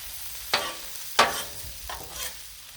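Ground beef, onions and peppers cooking on a Blackstone griddle: two sharp spatula scrapes and a softer third, with a faint sizzle beneath and no talking.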